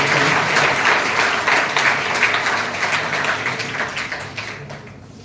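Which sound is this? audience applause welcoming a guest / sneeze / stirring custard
audience applause welcoming a guest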